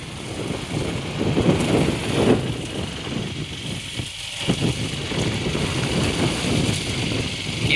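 Motorbike engine running during a ride along a road, a steady low drone with wind buffeting the microphone and small surges in level, with no talk.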